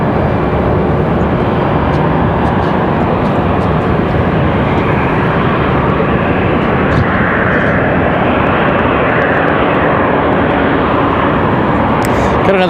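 A departing airliner, bound for Atlanta from Raleigh-Durham International, roars steadily through its takeoff run with broadband jet engine noise sustained loud and close for the whole span, no talk over it.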